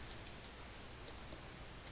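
Steady rain falls in Minecraft, a soft continuous hiss of drops on surfaces at a low, even level with no other sounds over it.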